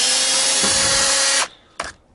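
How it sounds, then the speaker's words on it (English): A power drill whirs loudly and steadily while a scrapped heater is taken apart, then cuts off and gives one more short burst. "I didn't reverse my drill."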